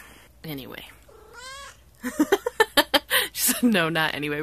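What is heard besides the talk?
pet cat meowing while getting belly rubs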